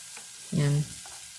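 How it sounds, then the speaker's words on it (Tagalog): Carrots and potatoes sautéing in a hot pan give a short, loud burst of sizzling and stirring that rises suddenly and cuts off after about a third of a second, with quiet kitchen background before and after. "Yan, gigisa mo lang siya, yung mga gulay."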